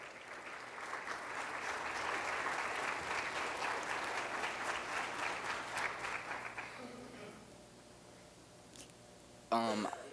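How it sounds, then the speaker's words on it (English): Applause from an audience at a high school hall of fame award ceremony as a finalist comes forward for a trophy, sustained clapping that fades out, followed by a brief voice. "Ladies and gentlemen, please give a round of applause to Mr. Jacob Mariakis as he comes forward to"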